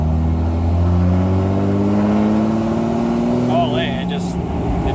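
A tuned single-cab Cummins diesel pickup accelerating hard at around 50 mph and breaking its tires loose, a loud, steady engine roar heard from inside the cab.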